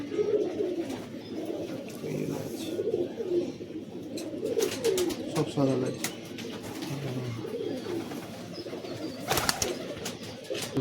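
Steady low cooing from a group of pigeons, Madrasi and Giribaz types with white plumage, rolls on continuously in a loft while people talk close by and a few sharper rustles break through.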